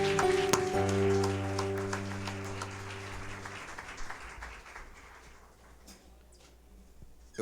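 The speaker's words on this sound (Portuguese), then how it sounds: "Você pode aplaudir o Senhor?" A church congregation at a communion service applauds in a sustained wash under lingering organ or keyboard chords, and the clapping fades gradually into a quieter hall.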